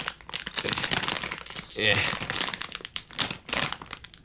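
A bag of popcorn with two mixed flavours is pulled open, giving loud close crinkling and crackling of the packaging that rises into a sharp burst near the middle. A person talks over much of it.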